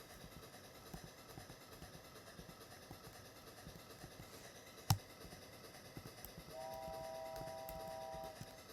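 A train runs along the track in the video game Off Roading Epic, a quiet steady rumble with one sharp clack partway through, followed by a sustained whistle tone near the end.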